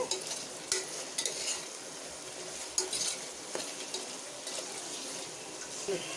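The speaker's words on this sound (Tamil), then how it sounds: "நல்லா கிண்டி விட்டுக்கோங்க" A spoon scrapes and stirs through thick mutton gravy in a pot, with soft sizzling and irregular metallic clinks at close range.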